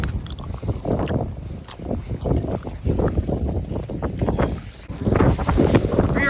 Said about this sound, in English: We are getting major wind gusts here.